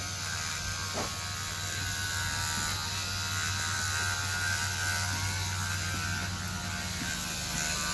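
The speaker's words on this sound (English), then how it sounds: "I'm going to have to angle my clipper blades just a little when I get up here so I don't take off her chestnut hair" Electric horse clippers run in a continuous close, even buzzing whir while shaving a horse's coat, with no talk over it.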